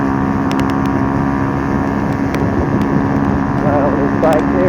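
Kymco K-Pipe motorcycle riding along a road, its small engine a steady close droning hum with wind rush, continuous under a rider talking.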